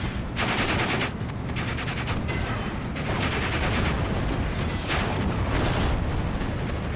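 Sustained, loud battle din in a WWII tank video game as 14.5mm anti-tank guns fire at a Panzer III on the Eastern Front near Vitebsk: continuous overlapping gunshots, machine-gun bursts and explosions with no pause or talking.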